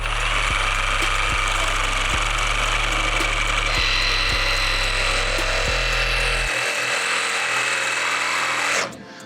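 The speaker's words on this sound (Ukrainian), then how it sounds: "я міняю полотно і починаю різати дерево з металом" A Dnipro-M DRS-201BC cordless reciprocating saw cuts through a wooden beam with nails in it, making a loud, continuous buzzing drone with a rhythmic pulse. The blade's pitch shifts partway through before the saw stops abruptly near the end.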